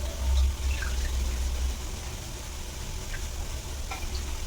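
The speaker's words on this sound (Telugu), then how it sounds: "ఇప్పుడు కొబ్బరి పాలు వేస్తున్నాను" Coconut milk pours steadily into a pot, a soft, continuous splashing and trickling that fades slightly after the first second, with no voices.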